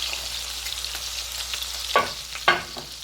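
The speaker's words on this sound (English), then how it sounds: "So we're going to sear these on the other side and get the rest of the chicken cooked" Chicken sears in a hot pan while cooking for a chicken scampi with linguine, giving a steady close sizzle with two sharper bursts of spitting crackle near the end as pieces are moved.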